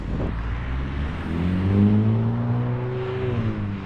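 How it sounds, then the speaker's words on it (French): A vehicle revs and accelerates along a road near children, its engine tone climbing and swelling loud and close, then easing off, with no talk over it. "l'autre crétin qui accélère, il y a des gamins sur la route"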